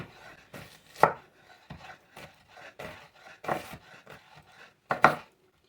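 A kitchen knife rock-chops a halved onion on a cutting board, producing about eight crisp, close knocks in an uneven rhythm with quiet slides of the blade between them.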